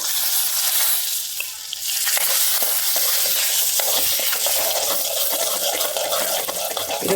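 Curry leaves and green chillies hiss and crackle in hot oil in a pan, a loud, dense sizzle that holds steady and close throughout, easing briefly near the start, with no one talking.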